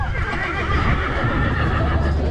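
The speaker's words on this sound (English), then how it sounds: "we're riding horses right now." A horse neighs and whinnies close by during a fall family ride on a farm, mixed with a busy, loud outdoor background and the clop of hooves.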